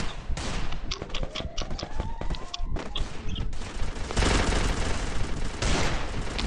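Video game gunfire rattles in dense, rapid bursts of shots and automatic fire, loud and continuous with a few short gaps.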